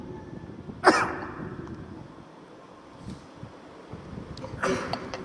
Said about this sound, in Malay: Batuk selalu.